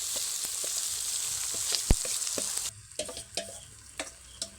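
A swollen batter of soaked semolina and rice flour fries in a wok with a loud continuous sizzle, then quieter frying as a spatula stirs it in several distinct scraping knocks.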